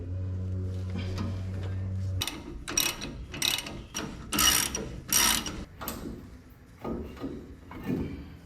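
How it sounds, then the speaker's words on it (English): A ratchet wrench with a 21mm socket clicks in quick bursts removing brake caliper bolts on a Ford F-150, several rapid runs of sharp metallic ticks close by, with short pauses between strokes. "we will be using the 21mm to remove our entire brake caliper"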